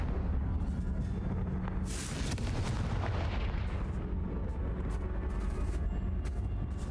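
An explosive fire spell in the Hogwarts Legacy game bursts with a deep, rolling boom, a loud burst around two seconds in followed by crackling, rumbling debris that slowly fades.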